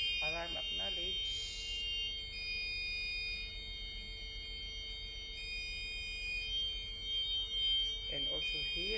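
Gyro panel alarm for a GPS communication error sounds as a continuous piercing electronic tone that runs the full length, with short bursts of a voice talking early and late.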